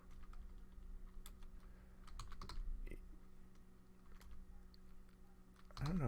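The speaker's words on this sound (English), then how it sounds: "I don't know why I'm having such a hard time typing today." Quiet keyboard typing, scattered soft clicks in irregular bursts over a faint steady hum, with a brief louder knock near the end.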